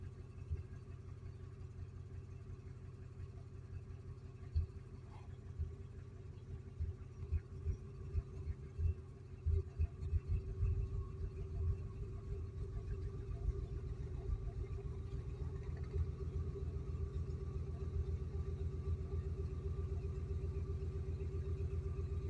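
An Expedition's engine hums at a low steady idle, then rises into a run of uneven surges and revs before settling back into a firm, even drone.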